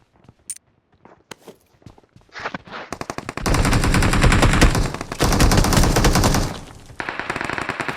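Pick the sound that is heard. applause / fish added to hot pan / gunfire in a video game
gunfire in a video game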